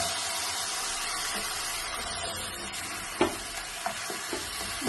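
Mutton chops being stirred with masala in a pan: a faint continuous sizzle with occasional sharp scrapes and taps of a spoon against the pan near the end.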